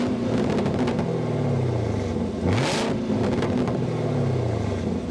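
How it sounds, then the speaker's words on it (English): Chevrolet Camaro ZL1 engine running with a deep, loud exhaust rumble and a couple of sharp revs rising and falling, close by with no talk. "we need to go inside and start it up so you can hear that exhaust note"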